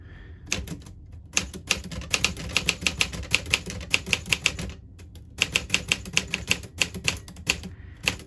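Someone types quickly on a Smith Corona Silent Super typewriter, producing close, solid key clacks in fast bursts separated by short pauses, with steady room hum underneath.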